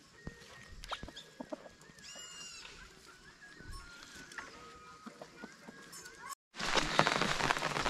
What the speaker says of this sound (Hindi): तो दोस्तों बारिश तो लगी है